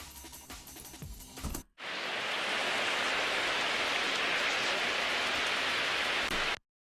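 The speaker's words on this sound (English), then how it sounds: "So that was a rain loop. This was from YouTube." Rain loop taken from a rain recording: dense, hissing rainfall starting abruptly after a short stretch of other sound, holding steady and full for several seconds before cutting out.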